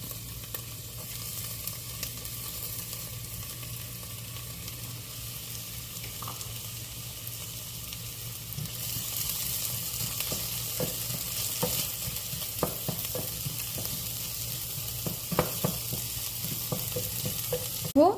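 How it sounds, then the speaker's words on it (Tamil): Onions sauté with whole spices in a pan for palak paneer, giving a low, steady sizzle that brightens midway, with scattered light clicks and scrapes of stirring toward the end. "இப்போது இந்த ஹோல் ஸ்பைசஸோட வெங்காயம் நல்லா வதங்கிடுச்சு."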